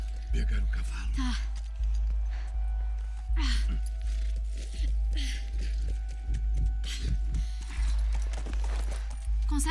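Horse hooves clip-clop in a steady rhythm through The Last of Us video game, beneath a constant low hum and people talking over the game.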